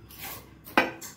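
A metal spoon clinks once against a large glass while adding sugar, a single sharp tap after quiet rustling.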